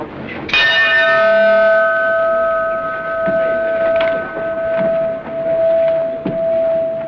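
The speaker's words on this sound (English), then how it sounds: "Watson, ring the bell once." A single strike of the bell at Lloyd's of London rings out loud and clear, its ringing tone hanging and slowly fading for several seconds under a murmur of background movement.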